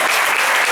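A church congregation applauding together at a special Israel service, a loud, dense wash of steady clapping filling the whole short moment with no voices on top.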